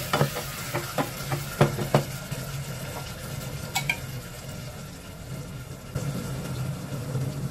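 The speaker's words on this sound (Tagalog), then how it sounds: "So ito ang ating sardinas. Gisa lang natin." Sardines sautéing with garlic and onion in a pan give a steady sizzle broken by irregular scraping and clinking of a utensil against the pan, close and moderately loud, with no voices.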